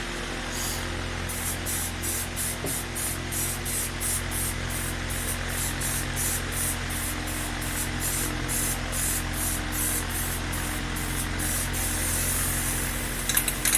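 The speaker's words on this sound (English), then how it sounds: "I'm kind of backed up against this fan here trying to spray" Steady hissing spray from an aerosol spray paint can painting a vehicle frame, sputtering slightly near the end as the can empties, over the constant low hum of a nearby fan.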